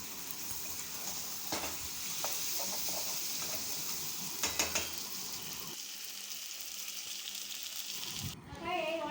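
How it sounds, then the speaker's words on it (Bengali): Mutton sizzles while it is sautéed for mutton kosha, a soft continuous hiss with occasional scrapes and clinks of a spoon, fairly faint, before the frying noise drops away near the end. "মাটনটা আমি 30 মিনিট কষাবো।"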